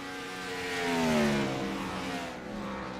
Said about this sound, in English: Listen to these race cars.